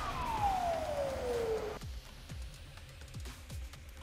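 An ambulance siren responding to soldiers wounded in an attack gives one loud descending wail that abruptly cuts off, followed by a series of regular low thumps against steady background noise.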